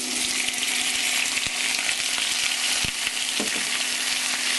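Garlic and whole peppercorns fry in hot oil with a steady, close, bright sizzle that runs unbroken throughout, with a few faint clinks of a utensil stirring the pan and no voices.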